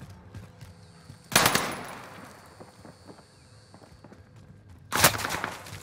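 Gunfire from two enemies in the Warzone video game, with two loud bursts of shots separated by quieter game sounds and footsteps.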